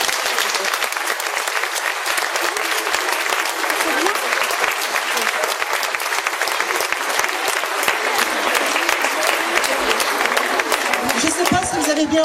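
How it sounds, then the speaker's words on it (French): Sustained audience applause at a school musical comedy show, dense and loud clapping from a large crowd continuing evenly for over twelve seconds, with some cheering mixed in. "Alors encore un plein d'applaudissements"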